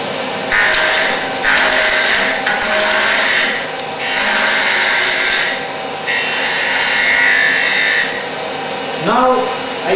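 A woodturning tool cuts a spinning workpiece on a lathe, making repeated loud scraping, rasping passes of a few seconds each with short gaps between them, close and alone, then a brief tonal squeal at the end.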